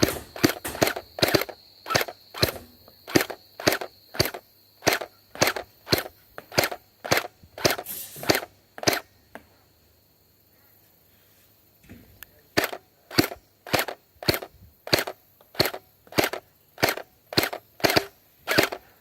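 A toy pistol fires in rapid bursts of sharp, loud cracking shots, dozens in quick succession, with a pause of near silence in the middle before the rapid shooting resumes.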